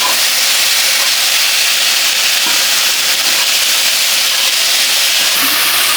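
Butter sizzles in a hot pan, a loud, steady, close-up hiss that crackles without pause from start to finish, with no talking.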